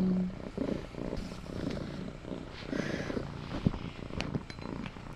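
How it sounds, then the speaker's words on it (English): House cat purring close by, a soft continuous rumble with gentle rhythmic swells, alone with no speech. "I have a helpful cat"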